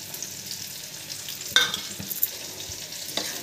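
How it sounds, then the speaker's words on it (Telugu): Food in a pan sizzles softly as chili powder is stirred in, with faint scraping stir strokes and a brief sharper clink partway through. "ఇప్పుడు బాగా కలిసేలాగా కలబెట్టుకోండి"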